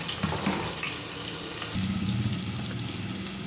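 Two large chopped onions fry in oil for a vegetable biryani cooked in a pressure cooker, giving a steady, close sizzle with a low hum underneath throughout.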